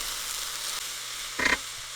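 A leftover dish reduces and browns in a pan with a soft, steady sizzle, broken by one brief louder burst of stirring or crackle in the middle.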